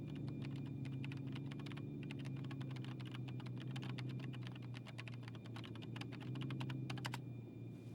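Fast, steady key clicks of typing on a computer keyboard in the anime Legend of the Galactic Heroes Gaiden run almost continuously over a low background hum.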